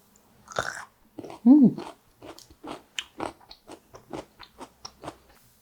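Crunchy garlic pickled in soy sauce for a year is bitten and chewed up close: a sharp first crunch, a short voiced murmur, then a steady series of crisp, rhythmic chewing crunches.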